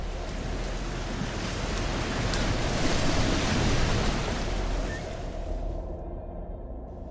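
Ocean surf washes steadily onto a shoreline as a broad, continuous roar mixed with wind, swelling gently in the middle and then thinning out to near quiet at the end.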